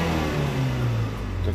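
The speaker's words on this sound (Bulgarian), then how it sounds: "за сега колата се форсира добре" Fiat Doblo turbo engine being revved after a P0240 turbocharger pressure fault was repaired, a steady, loud, close mid-pitched engine drone that rises slightly in pitch then eases back, with no talking.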